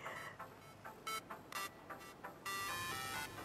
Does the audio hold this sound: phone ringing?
yes